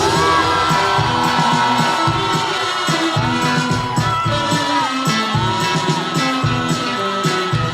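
A crowd at an outdoor cheese festival claps and cheers over loud, pounding trot music, with whoops and shouts rising above the clapping and the steady beat.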